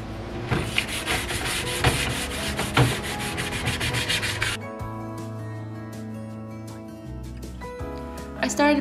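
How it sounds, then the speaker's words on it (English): Wooden furniture is sanded by hand with 150 grit sandpaper and then with a power sander; a rhythmic, scratchy rubbing gives way to a steady electric sander whir, close up, with a voice speaking over it. "I started by using 150 grit sandpaper on the edges where I cannot reach with the sander, and eventually I graduated to sander"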